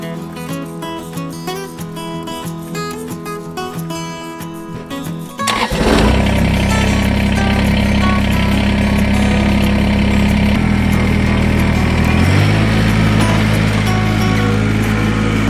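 A Kubota tractor's diesel engine cranks and catches after several seconds of quiet, then runs loud and steady close by, its rumble shifting pitch as the throttle changes.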